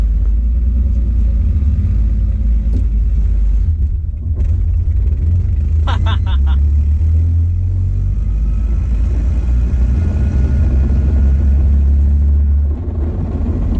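A turbocharged BMW E46 M54 engine drones and rumbles loudly and continuously inside the cabin while accelerating in third gear, with brief clicks and a short squeak partway through.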